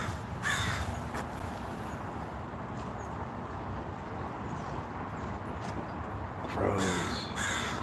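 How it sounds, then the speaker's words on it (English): Crows in a city, where a few loud, harsh caws sound at the start and again near the end over a low, steady background of street noise. "Crows."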